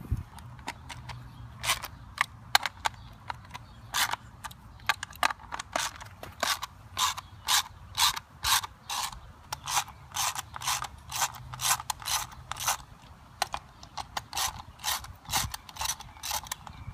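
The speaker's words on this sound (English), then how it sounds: "I'm going to take out these three 10mm bolts" Rapid ratchet clicking while three 10mm bolts come off a John Deere JX75 mower wheel, steady bursts of sharp close ticks repeating throughout over a low background hum.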